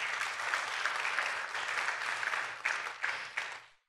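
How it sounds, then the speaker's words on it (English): A church audience claps for the worship band in dense, steady applause that fills the room. It holds for several seconds, then thins with a few last claps and stops abruptly. "would you give them a loud hand clap?"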